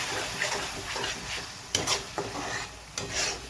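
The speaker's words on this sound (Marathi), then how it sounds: "हे छान 1-2 मिनटं फ्राय करायचं आहे." Onion and tomato paste stirred and fried in a pan for a Kolhapuri mutton dish, a soft steady sizzle with scraping spoon strokes against the pan and a few sharper clinks, close and without speech.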